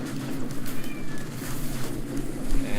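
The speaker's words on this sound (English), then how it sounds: "And my cat Ginger is going to meow again." A calico cat named Ginger meows a few times in a row, fairly close. Her cries sit over a noisy room-tone background with no speech.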